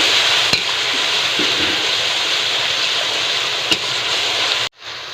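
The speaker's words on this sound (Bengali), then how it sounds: "ভালো করে মশলাগুলো কষে নেব" Spices frying in hot oil for a jackfruit kofta curry give a loud, steady close sizzle, broken by a couple of sharp utensil clicks and then a sudden cutoff near the end.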